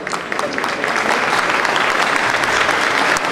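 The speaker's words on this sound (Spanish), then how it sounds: "un aplauso muy especial" Sustained applause from an audience at a peace congress, welcoming an international delegate from the Kurdish communities; dense, steady clapping fills the space at full volume without pause.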